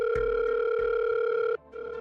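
A landline telephone sounds a steady, clear electronic tone that holds for about a second and a half, then breaks and resumes more faintly, with no voices.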